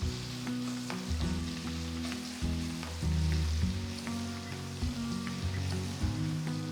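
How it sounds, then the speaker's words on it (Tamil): Finely chopped medium onions sizzle and crackle in hot oil in a kadai, a steady dense frying hiss with occasional stirring clinks, fairly quiet and with no voices. "அடுத்து 2 மீடியம் சைஸ் வெங்காயம் பொடியாக நறுக்கினது சேர்க்குறேன்."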